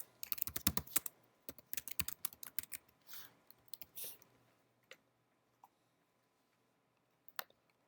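Typing on a computer keyboard in a classroom, quick bursts of clattering keystrokes at first that thin out to a few scattered isolated clicks, with faint speech in the background.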